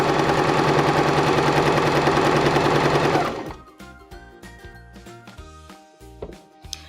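A Baby Lock Zest sewing machine stitching fabric around piping runs loud and fast for about three seconds, then stops, leaving faint clicks and handling noises.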